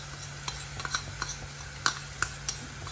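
Masala paste of chilli, coriander and turmeric frying with ginger and onion in a pan, heard as a soft low sizzle with scattered light stirring clicks and scrapes, no one talking.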